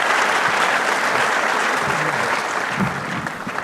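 Audience applauding at an evening event with Margaret Pomeranz and David Stratton, dense sustained clapping from a large crowd, loud and steady, tapering slightly toward the end.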